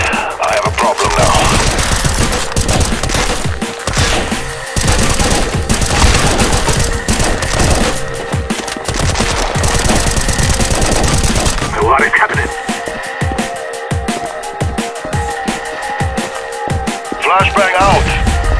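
Gunfire in the 2D video game CS2, loud rapid bursts of automatic fire and single shots in dense volleys, with brief pauses and a few sharper game effects.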